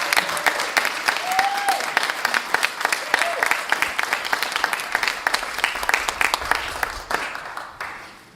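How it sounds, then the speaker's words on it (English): Applause at a soil and health forum, given for the event organizers: a lively crowd claps steadily with many distinct sharp hand strikes, fading out near the end. "Maybe we could just have a little round of applause right now for the people who organize this"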